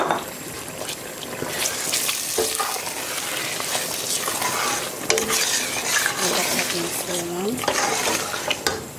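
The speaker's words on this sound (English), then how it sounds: "So I'm going to add the beans to the stew now" Butter beans go into a broccoli and plantain stew and are stirred, giving a continuous wet bubbling and sizzling with scraping and pan clatter close by, and a voice faintly present.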